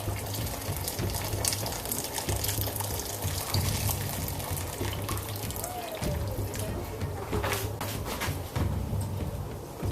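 Filtered water pours steadily into a pot of chicken stock, a continuous splashing fill with a faint hum beneath, no talking.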